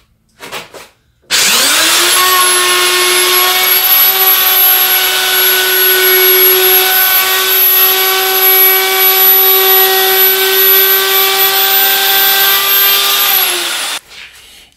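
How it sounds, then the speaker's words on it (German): A router with a roundover bit shapes the edges of an MDF tabletop, spinning up into a loud, steady high-pitched whine that holds for about twelve seconds before winding down. "ich fräse jetzt die Tischplatte mit einem Abrundfräser"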